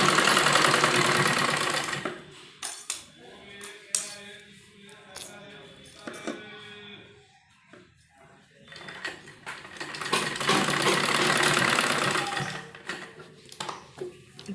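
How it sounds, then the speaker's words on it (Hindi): Sewing machine stitching kurti fabric pieces along fitting marks, with loud continuous bursts of rapid stitching at the start and again in the latter half, separated by quieter handling clatter and short pauses. "जो हमने फिटिंग के निशान लगाए हैं उन पर हम सिलाई लगाएंगे"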